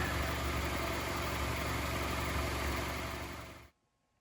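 A Honda CR-V engine, just repaired for an oil leak, idles with a steady close-up hum and low rumble, running evenly before cutting off abruptly near the end.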